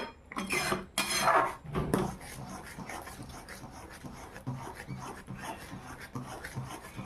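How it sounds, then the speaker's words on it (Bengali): A mango sandesh mixture is stirred in a pan over a medium flame to dry it out, with loud scraping and rubbing of the spatula at first, then steady quieter scraping strokes that continue throughout. "এইভাবে কিছুক্ষণ নেড়ে চেড়ে আমি এটা শুকিয়ে নেব।"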